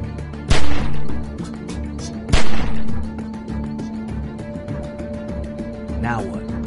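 Loud game gunfire from The Walking Dead: 400 Days, two heavy booming shots about two seconds apart with sharp crackling reports between them, over a steady low ambience.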